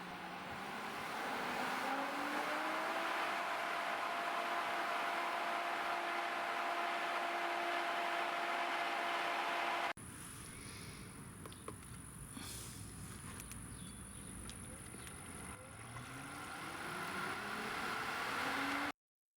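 A Pentair Intelliflo pool pump hums steadily at low speed, then its motor tone rises as it ramps up to 3450 RPM on quick clean, ending in a louder, higher whine, with no talking.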